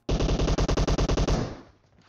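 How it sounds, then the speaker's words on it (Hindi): A rapid automatic burst of about a dozen loud shots from a gun in PUBG Mobile, evenly spaced and close, ending abruptly with a brief fading tail. "यहाँ पे मैं मजे से गोलियां पेल के गोली बर्बाद कर रहा होता हूँ"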